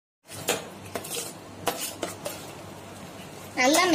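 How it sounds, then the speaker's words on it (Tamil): Chili powder is worked into a carrot and potato batter in a bowl, with a handful of soft spoon clinks and scrapes against the bowl, then a voice begins speaking at the end. "நல்லா mix பண்ணிக்கலாம் chili powder add பண்ணக்க"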